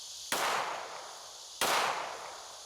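A pistol fitted with a Radian Afterburner compensator fires two sharp, loud shots about a second and a half apart, each close and cracking with a lingering ringing tail, during a low-light muzzle flash test of a carry gun.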